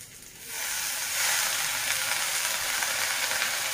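Mati kanduri greens and raw tomato sizzle in a pan, a steady hissing fry that swells after the first half-second and stays fairly loud without any voices.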